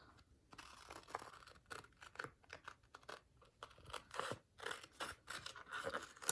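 Scissors snip out part of a Dollar Tree sign, giving a quiet, close run of repeated crisp cuts and paper rustles in an uneven rhythm.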